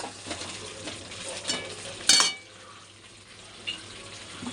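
Chicken sizzling in oil in a pan, cooked down until the oil separates, with a steady frying hiss, a couple of scraping stirs and a brief louder clatter midway; a voice speaks faintly in the background.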